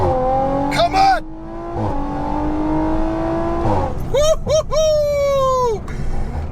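A stage 3, 626 bhp Audi RS5 accelerating hard in second gear with a manual shift, its loud engine note climbing steadily and then surging again in sharp rising pulls, heard close from inside the car.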